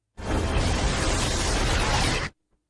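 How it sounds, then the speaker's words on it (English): A film explosion: a loud, dense roar that fills the air for about two seconds at full strength, then cuts off abruptly into silence. "They kiss as they're engulfed by the explosion."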